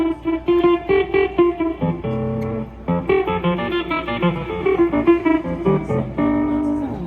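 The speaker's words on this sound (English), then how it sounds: "And I have a ring mod." Electric guitar notes played through a ring modulator, giving metallic, bell-like, inharmonic tones in a choppy rhythmic pattern.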